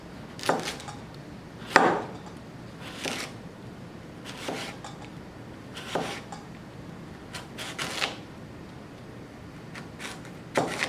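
A knife slices a carrot on a cutting board in a steady series of soft, close chops, roughly one each second, over a quiet background.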